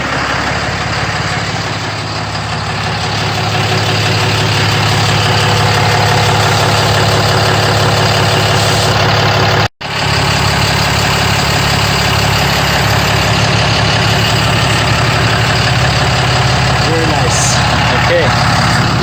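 A 6.7 Cummins diesel truck engine idles steadily after priming the fuel system, a constant rumble heard nearby outdoors with a brief cutout midway and voices faintly over it.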